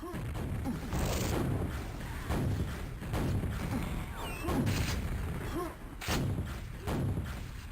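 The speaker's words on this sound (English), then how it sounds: "Nice prediction rocket there." Rocket launcher explosions in the fast arena shooter QuakeWorld, a series of heavy booming blasts and thuds at a rhythmic pace amid constant gunfire and game effects, moderately loud in a busy firefight.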